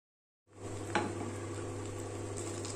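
Cashews and raisins being stirred into sweet pongal in a pot, a steady close scraping and mixing texture over a constant low hum, with one brief louder clink near the start.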